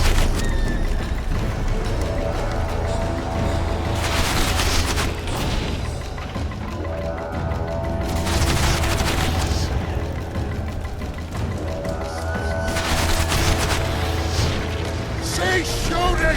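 Bursts of gunfire and booming blasts come from the video game The Witcher 2: Assassin of Kings, recurring in loud waves against a constant noisy battle backdrop, with voices heard in places.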